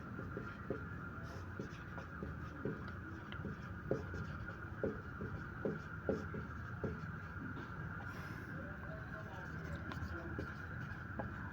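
Chalk or marker writing on a board during a class 7 science lesson, with light repeated taps and strokes heard under a teacher's voice and steady room hum.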